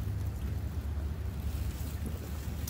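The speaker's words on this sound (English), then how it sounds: "Listening to the wind whipping around" Wind whips around a hot tent, a steady low buffeting rumble with a soft, airy hiss, continuous and moderately loud without any voices.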